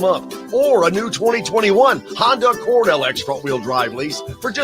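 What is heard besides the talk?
None of the usual background noises is heard.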